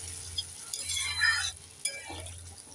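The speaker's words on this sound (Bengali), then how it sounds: "একটু নেড়ে চেড়ে দিয়ে দেব।" A spoon scrapes through potato and soybean curry in a pan after warm water is added: soft close stirring and light clinks, with a faint sizzle underneath.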